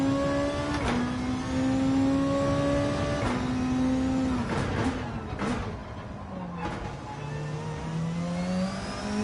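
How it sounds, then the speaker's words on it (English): A racing car engine in Gran Turismo 7 at Bathurst climbs and drops through gear changes, with a rising whistle of turbo spool layered over the roar. "Listen to that turbo spool"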